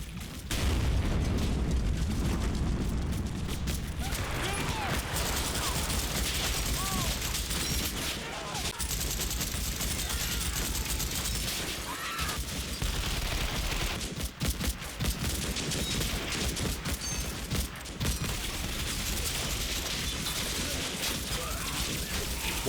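Dense, continuous gunfire and rolling explosions from the wartime strategy game Combat Mission Final Blitzkrieg, an assault on a gasworks, loud and unbroken throughout with booming blasts layered over rapid bursts of fire.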